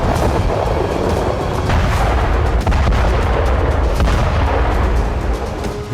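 Artillery fire and bombardment explosions in Ukraine form a loud, dense, continuous barrage of booms and cracking impacts that barely lets up.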